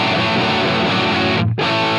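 Electric guitar played through a Helix JCM 800 amp model with a Greenback cabinet gives a dense, distorted, sustained chord that rings loudly and then cuts off briefly near the end, with no talk.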